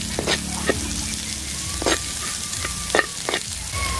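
Onions sizzling in a pan with garlic already browned, a steady close frying hiss broken by a few stirring scrapes, with no talking.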